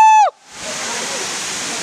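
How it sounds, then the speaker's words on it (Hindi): Durgapadu waterfall in Rayagada rushes as a steady, loud, close roar of falling water, preceded by a brief tonal call or whistle at the very start. "झरना तो गाइस देखो तो"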